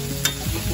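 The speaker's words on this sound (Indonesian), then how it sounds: "Ini goreng." Onions, garlic and ginger sizzle and fry in hot oil as they are stirred in a pan for a curry, a close, continuous crackle with a brief scrape of the utensil.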